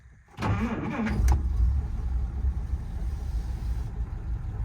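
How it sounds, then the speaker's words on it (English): A 1947 Dodge Town Sedan's flathead six-cylinder engine cranks briefly, catches, and settles into a steady low idle, close and loud. "We can start the car, key on."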